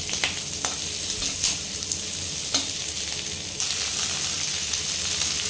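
Onions frying on high flame for chili soya chunks, a continuous close sizzle with occasional stirring clicks and a brief rise in hiss near the end.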